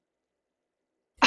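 A single short sneeze bursts out at the very end after a moment of silence, close and sharp.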